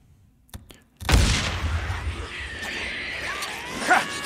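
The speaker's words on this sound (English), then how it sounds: "Put a frag grenade right in the middle of them." A frag grenade detonates among a cluster of enemies in a shooter game, a sudden loud boom after a few faint clicks, then a long rumbling tail with scattered crackles and debris.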